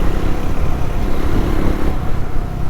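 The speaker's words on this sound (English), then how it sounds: "that's Alaska being ridden by Pratik right in front of me" Triumph Scrambler 400 motorcycle riding along with a steady engine drone, mixed with heavy wind rumble, loud and continuous with no talk.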